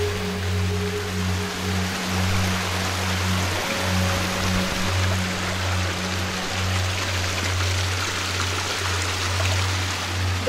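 A swollen mountain stream after rain rushes in a steady, loud broadband roar with no pauses, heard up close, while a low hum runs beneath it.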